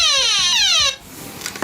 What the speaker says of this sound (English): That particular sound, to me, was more of an alarm.